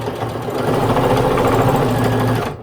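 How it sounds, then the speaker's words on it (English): A sewing machine stitches a flat zipper bag with a close, continuous whirring hum that runs steadily for a couple of seconds and then stops, with no talk. "I am going to lock my stitch by going forward and back stitching it at the beginning and at the end."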